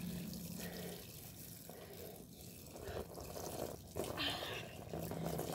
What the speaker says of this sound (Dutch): En ik ga even een douche pakken.